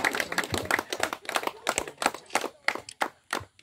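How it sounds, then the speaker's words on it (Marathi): A small crowd claps for a winning team at a village tennis-ball cricket trophy presentation, giving uneven bursts of nearby hand claps that rise and fall in loose waves without any talk. "जोरदार टाळ्या झाल्या पाहिजेत शिवनेरी चायकेवाडी या संघासाठी."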